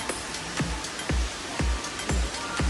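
A small waterfall in an indoor botanical garden in Mae Rim, Chiang Mai, gives a constant rushing splash, with heavier whooshing surges recurring about every half second, close and fairly loud, no voices.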